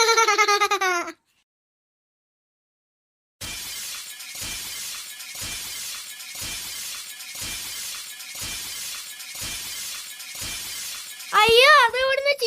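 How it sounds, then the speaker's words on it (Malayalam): Glass shattering in a repeated series of about nine crisp, bright crashes at a steady rhythm, each a sharp burst with a ringing tail, framed by short stretches of voices and a silent gap before them. "അത് ഇവിടുന്ന് ചില്ല് പൊട്ടുന്ന സൗണ്ട് കേൾക്കുന്നേ."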